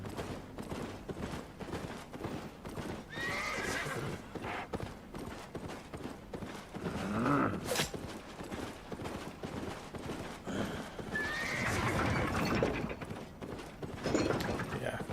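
Steady clip-clop of armored horse hooves in Albion Online, with a brief whinny midway and more hoofbeats surging later, all under ongoing talk.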